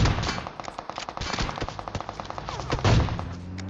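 Automatic weapon spray in PUBG Mobile, a rapid string of sharp, closely spaced shots in fast bursts, loud and near, with a heavier blast near the end.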